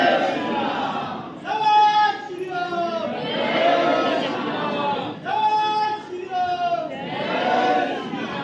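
Dense crowd of devotees packed into the Panchmukhi Hanuman temple, a steady murmur of many voices with louder swells of chanting and calls rising and falling over several seconds.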